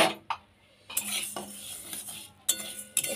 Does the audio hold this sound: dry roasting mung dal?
yes